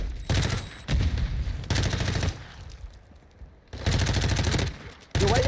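Call of Duty Warzone gunfire comes in several loud, close bursts of rapid automatic shots, separated by short quiet gaps.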